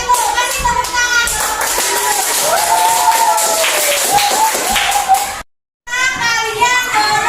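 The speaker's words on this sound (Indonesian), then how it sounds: "Kasih tepuk tangan." Children in a classroom clap for a group that has just presented, lively scattered applause mixed with excited kids' voices and chatter, briefly cutting out before resuming.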